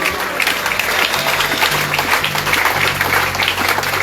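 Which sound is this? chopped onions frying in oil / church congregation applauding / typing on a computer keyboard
church congregation applauding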